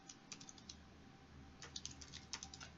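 Soft clicking keystrokes on a computer keyboard come in two short bursts separated by a pause, faint and close over a low background hum.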